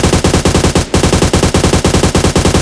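Rapid automatic gunfire from a weapon in PUBG Mobile, loud and close, in quick regular bursts with one brief gap partway through.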